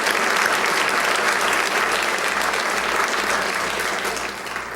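Audience applause at a public health event, a dense, steady wash of many hands clapping that fills the room, then thins slightly toward the end, with no talking over it.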